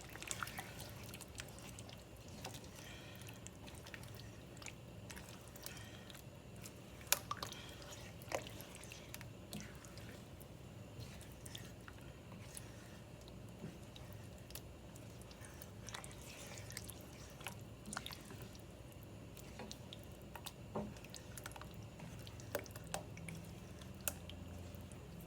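Heavy cream is stirred into chicken tikka masala in a pan, soft wet squelches and occasional spoon taps recurring quietly and closely over a low simmering background.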